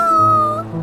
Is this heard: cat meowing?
yes